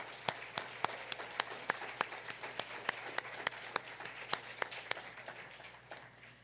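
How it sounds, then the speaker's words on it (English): Applause from a luncheon audience for a university, steady clapping from a modest crowd heard at a slight distance, with sharp individual claps standing out before it tapers off. "A round of applause to UBC."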